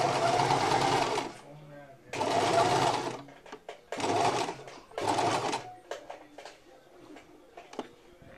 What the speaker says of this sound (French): maintenant je vais venir coudre jusqu'à ma marque qui se trouve à 1 cm de mon